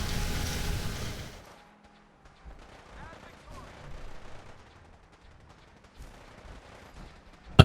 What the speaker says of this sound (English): None of the Brotherhood Knights are shooting at me. That weapon firing is...